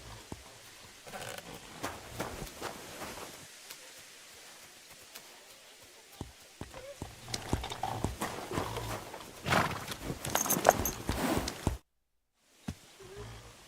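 A horse in a stable in the video game Kingdom Come: Deliverance 2 gives off scattered hoof clops and shuffling, with busier stamping and a rustle toward the end, quiet and fairly close, then a sudden drop to silence.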